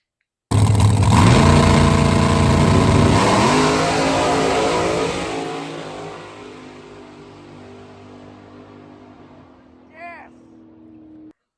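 A car engine with compressed-air supercharging and a downpipe into a bullhorn exhaust revs hard and loud, a sustained roar that sweeps up then fades away over several seconds, leaving a low rumble.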